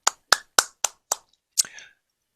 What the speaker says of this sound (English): they have a virtual clap